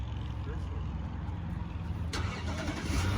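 A car engine cranks and catches after the push-button start, a loud steady rumble that fills the whole moment, with people talking over it.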